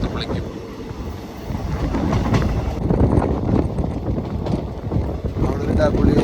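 Sleeper-class passenger train (Vanchi Maniyachi passenger) in motion, a steady broadband rumble of wheels and carriage with faint rhythmic clatter throughout, heard from inside the coach; a voice speaks faintly underneath.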